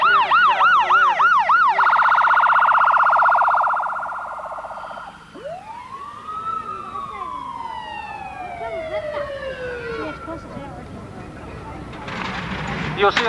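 An ambulance siren at a fire engine rally in Preston Park, a loud rising and falling wail that stops and gives way to fainter sirens sweeping down in pitch amid outdoor crowd noise.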